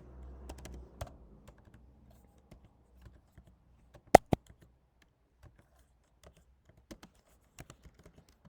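Computer keyboard keys tapped out sparsely while writing an example, with irregular soft clicks and a couple of sharper louder strikes, close and otherwise quiet.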